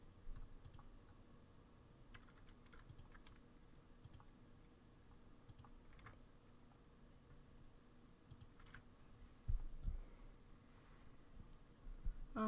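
Computer keyboard typing with scattered key clicks over a steady low background hum, fairly quiet, followed by a couple of louder bumps near the end.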